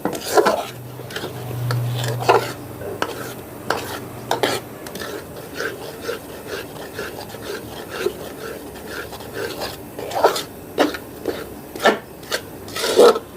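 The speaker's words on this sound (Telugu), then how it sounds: "ఇప్పుడు ఈ వేడి ఆయిల్ని కొద్ది కొద్దిగా వేసుకుంటూ మన మైసూర్ పాకుని కలుపుకోవాలి బాగా పిండిలో" Gram flour mixture for Mysore pak stirred in a pan as hot oil is added bit by bit, giving repeated scraping and rubbing strokes with soft clinks, steady and close, with a low hum early on.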